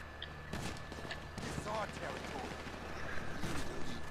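Gunfire sprays at cars in the online casino mode of GTA V, with rapid bursts of game shots under steady background noise while a player talks over them.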